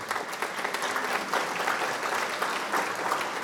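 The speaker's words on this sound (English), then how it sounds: "round of applause for Chris." A room at a joint city council meeting applauds a city manager, producing steady, dense clapping that holds at an even level for the few seconds without speech.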